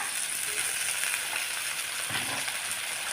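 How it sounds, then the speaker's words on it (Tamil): A steady sizzle of onions frying in hot oil with curry leaves and ginger-garlic paste, continuous and fairly soft, with no talking. "ஒரு கொத்து கருவேப்பிலை போட்டு நல்லா வதக்கிக்கிறேன்"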